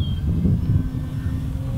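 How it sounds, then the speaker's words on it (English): An E-flite Valiant radio-controlled model plane flies overhead with a steady buzzing drone that holds fairly loud and constant against an outdoor background. "It's just so nice to be out here flying a plane."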